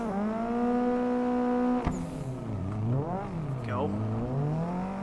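Drift race car in the Assetto driving game, its engine holding a steady high rev, then dropping and surging through swooping revs as it slides, loud and close, with a voice speaking over it.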